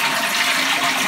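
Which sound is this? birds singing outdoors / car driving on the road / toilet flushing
toilet flushing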